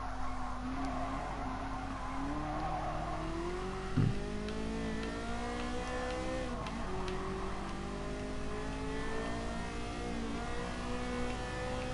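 A Ferrari F40 on sports soft tyres races in Gran Turismo Sport, its engine droning and shifting pitch through a corner while the tyres squeal and skid continuously, with a brief bump partway through.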